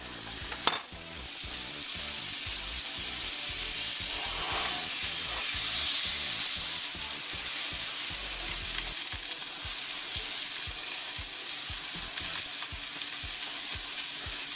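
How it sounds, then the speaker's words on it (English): Generous pat of butter sizzling loudly in a hot pan, a steady close crackle and hiss that holds throughout with no voices. "Go ahead and get it down in my hot pan."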